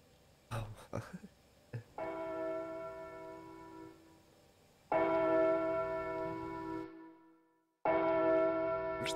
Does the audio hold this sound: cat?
no